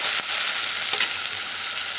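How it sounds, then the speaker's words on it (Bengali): Cumin, bay leaf and whole garam masala spices crackle in hot oil in a kadai, a loud, dense, close sizzle with a couple of brief stirring scrapes and no talk. "এখানে জিরে, তেজপাতা, গোটা গরম মশলা ফোড়ন দিলাম।"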